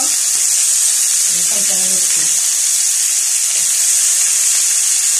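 A loud, steady sizzling hiss as fried onions are added to a pan with ginger paste and tomato for fish curry, with a voice briefly speaking underneath the frying noise.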